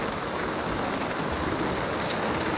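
A sudden downpour hammers a boat, a dense, even hiss of rain drumming on deck and hatch, loud and continuous throughout.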